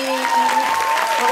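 Audience applause at a televised talent show, a steady wash of clapping filling the whole moment with no break, with voices blended in over it.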